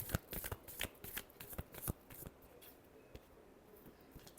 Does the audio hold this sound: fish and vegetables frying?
no